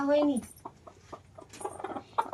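A village hen in the Sundarbans lets out a loud drawn call, then gives a string of short, soft clucks scattered irregularly through the rest.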